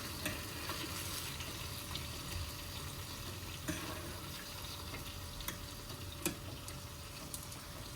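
A chicken steak sizzling in a pan just after being flipped, a steady close crackle of frying with scattered sharp pops and no voices.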